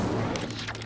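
Incendio fire spell cast in Hogwarts Legacy, a loud, dense burst of whooshing flame and crackling impacts that fills the moment with rapid sharp pops on top.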